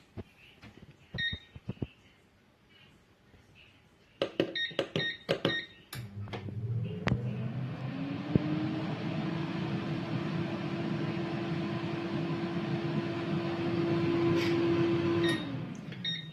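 A Xiaomi Air Soft 5.5l smart air fryer beeps as buttons are pressed, then starts up with a fan whir that rises into a steady, loud hum with a sustained tone, ending in another beep.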